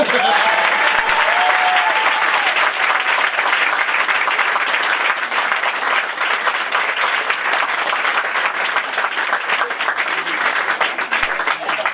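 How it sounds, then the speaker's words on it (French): Sustained, dense audience applause fills the whole stretch at a steady, loud level, with faint crowd voices mixed in. "applaudissez-le bien fort"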